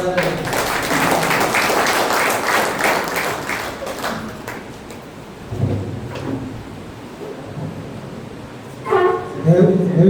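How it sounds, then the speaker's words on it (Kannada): Crowd applause at a Lions Club gathering honouring a long-serving member, a dense rain-like patter of many hands clapping steadily for several seconds, thinning out, with brief bursts of talk and a few louder claps near the end. "ನಾವೆಲ್ಲರೂ ಅಭಿಮಾನದ ಚಪ್ಪಾಳೆಯನ್ನು ಕೊಡಬೇಕು"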